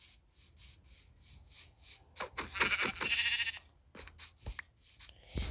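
Minecraft sheep bleat several times in quick succession, mixed with soft rubbing and clicking noises, fairly quiet throughout.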